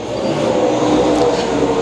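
Race cars roar down the front straightaway of a dirt oval at a Lakeside late models, mods and stocks main event, a loud, steady engine drone with no gaps.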